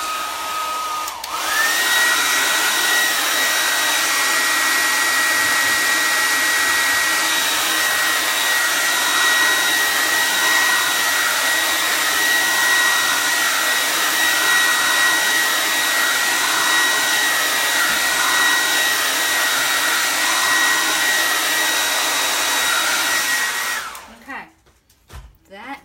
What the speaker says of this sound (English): Let's get the hairdryer to this.